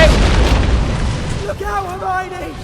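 A loud explosion booms at the start of a Harry Potter and the Deathly Hallows video game, fading into rumble as a voice speaks over the tail.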